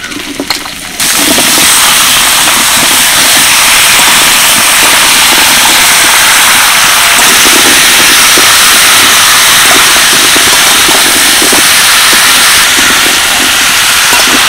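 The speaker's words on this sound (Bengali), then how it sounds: "সবজিগুলো তেলের মধ্যে 1 মিনিট মতো ভেজে নিলাম" Pumpkin, sweet potato and potato frying in hot oil: a loud, steady, close crackling sizzle that runs without a break for the whole stretch, with no voices.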